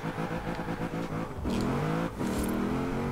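Honda Civic RS with a swapped engine in Forza Horizon 4, revving hard and climbing through gears with a steady, loud engine drone and a brief dip at a shift, no talking.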